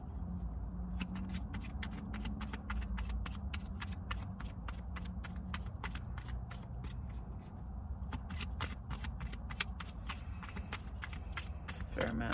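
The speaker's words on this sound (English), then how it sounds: "It's a fair amount of shuffling today." Cards being shuffled up close, a rapid run of crisp riffling snaps repeating in bursts, with a soft voice murmuring underneath.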